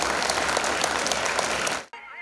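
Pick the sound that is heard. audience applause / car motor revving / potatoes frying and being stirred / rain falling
audience applause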